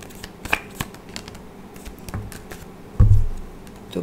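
Tarot cards shuffled by hand, soft riffling and several crisp snaps and taps of the deck, close and fairly quiet, ending with a brief louder thump.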